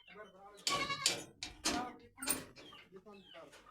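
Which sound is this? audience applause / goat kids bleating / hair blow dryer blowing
goat kids bleating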